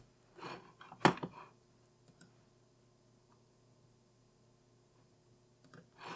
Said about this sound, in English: And I'm just control clicking,